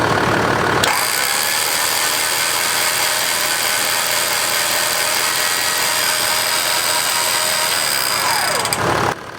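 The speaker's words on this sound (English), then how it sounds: "it was time to try the winch and spool in some cable" A Warn high-mount winch spooling in steel cable: a steady, loud motor whine with a gear drone and a faint ratcheting texture, running without a break for about eight seconds and then stopping abruptly, with no talk.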